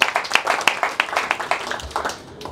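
Studio audience clapping for a rapper guest on a comedy show: a short burst of brisk, close hand claps from a small crowd, fading toward the end.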